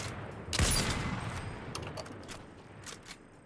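A burst of video game gunfire cracks out once, loud and close, then a few fainter scattered shots follow and fade against quiet background noise.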